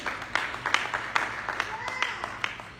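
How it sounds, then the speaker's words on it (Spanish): A church congregation applauds at a Spanish-language service, a steady patter of many hands clapping at moderate distance while a voice speaks over it. "Denle un aplauso al Give the Señor. Lord a hand of praise."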